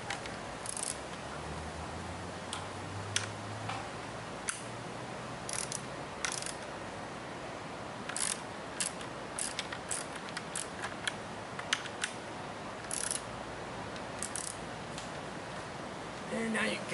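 Ratchet clicks from bolts being tightened on a homemade folding wooden tripod hammock stand, short bursts of close mechanical clicking spread over a quiet background with faint low rumble.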